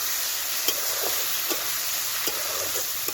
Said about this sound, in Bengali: মশলাটা ভালো করে আমি একটু কষিয়ে নেব।